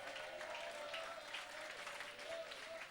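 Congregation applauding during a French-language church prayer service, a steady, fairly quiet wash of clapping from many hands with a faint sustained tone beneath.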